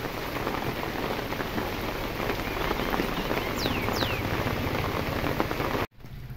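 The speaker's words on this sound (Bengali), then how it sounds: "এই যে বৃষ্টি হচ্ছে এদিকে" Steady rain falls on surfaces outdoors in a rural village, a continuous dense hiss and patter heard close and fairly loud, ending with a brief abrupt break.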